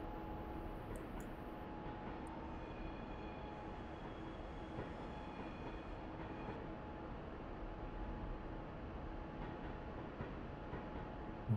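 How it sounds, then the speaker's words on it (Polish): Inside an ICE 3 BR 406 high-speed train in Train Simulator 2022, a quiet, continuous rumble of rolling wheels and cabin hum runs steadily throughout with faint tonal whines riding on top. "Bardzo cichutki pociąg w środku."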